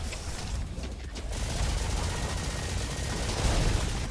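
Roboquest's Valkyrie rifle firing nonstop, rapid shots blurring into a thick, loud rattle that swells slightly toward the end, with no voices over it.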